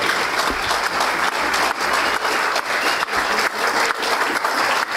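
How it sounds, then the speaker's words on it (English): Steady, dense applause from a Pioneer Lions Club audience at a meeting, honoring two members for their work; loud, continuous clapping that fills the whole stretch with no voices over it. "I think they deserve a round of applause for turning something in"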